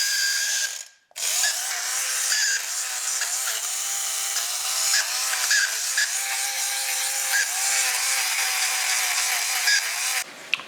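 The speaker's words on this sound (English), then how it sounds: "Then a lint shaver, just to shave off any of the excess." A handheld lint shaver buzzes over Nike SB Dunk sneaker insoles, a steady high whirring hum with small scraping ticks, close and fairly loud, cutting out briefly near the start and again at the end.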